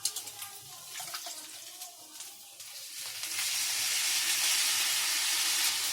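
Water rushing from a tap while cabbage is washed in a home kitchen, a loud steady splashing hiss that swells after a few quieter seconds of clattering.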